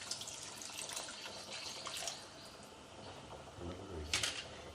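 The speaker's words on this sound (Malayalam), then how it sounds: "നമുക്ക് ഏകദേശം 1 കപ്പ് വെള്ളം കൂടി ഇതിൻ്റെ അകത്ത് ഒഴിക്കാം" About a cup of water poured into a pot of cooking rice for Eid chicken majboos: a quiet, soft pouring splash and gurgle, with a short brighter splash near the end.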